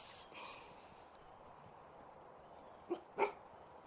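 A dog barks in the horror video game The Eerie Hours, with two short, fairly faint barks near the end after a mostly quiet stretch of ambient game noise.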